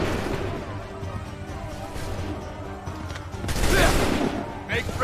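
A musket volley in Assassin's Creed III: ragged crackling gunfire from many soldiers, with a louder burst of shots near the end, over battlefield noise.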